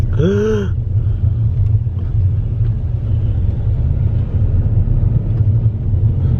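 A car drives steadily through a town with a constant low engine and road rumble throughout, preceded by a brief tonal chirp at the start.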